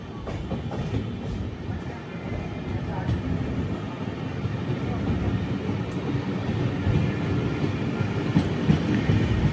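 The Padmavati Superfast Express, running Tirupati to Secunderabad, rolls along the rails with a steady rumble and faint clickety-clack heard from inside a carriage, constant and moderately loud.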